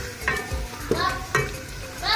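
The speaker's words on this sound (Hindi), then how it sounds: "अरबी को हमें 10 मिनट तक अच्छे से फ्राई करना है मसाले के घी के अंदर ही" Taro pieces frying in spiced ghee, stirred with a spoon in a few scraping strokes over a soft sizzle, close and alone.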